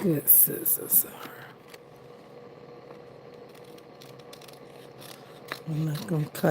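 Scissors snipping through a journal's paper page, a few crisp cuts clustered at the start and again near the end, fairly close, with a quiet stretch of room noise between.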